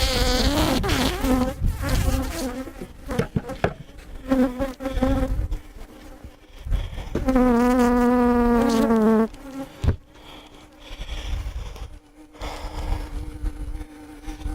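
Honeybees buzz loudly and close around a hive cutout, with a bee vacuum's rising whine cutting in for a couple of seconds midway before the scattered buzzing returns.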